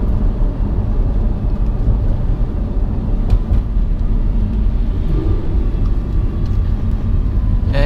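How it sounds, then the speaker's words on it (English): An Audi R8 supercar's engine drones loudly and steadily from inside the cabin on a Singapore drive while downshifting with the paddle shifters, a continuous low roar with slight blips. "So right now I'm using the pedal shift to downshift."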